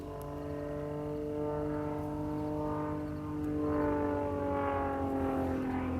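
A propeller aerobatic airplane flies competition maneuvers in a Sportsman and Primary power program, its engine a steady droning hum at middle distance whose pitch slowly shifts and swells as it climbs and turns.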